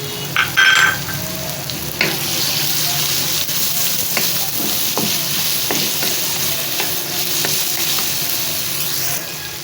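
Tomatoes frying and being stirred in a pan with whole spices for pea rice, a steady sizzle with scraping stir strokes and a few clinks throughout, close and fairly loud.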